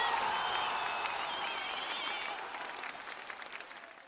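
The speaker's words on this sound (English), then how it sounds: "let's give him one more rousing round of applause" Live studio audience applauding at the close of a talk show, a dense wash of clapping that gradually fades over a few seconds.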